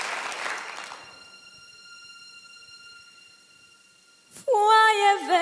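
Audience applause on a Romanian talent show stage for a singer: broad clapping noise at the start fades within about a second, leaving a sustained tone before music begins.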